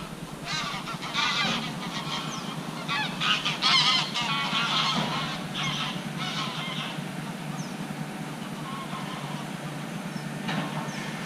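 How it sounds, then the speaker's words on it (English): Geese honk in a noisy, overlapping cluster by a river, loudest early on and then thinning to scattered calls over steady background noise. "Quite a few geese there."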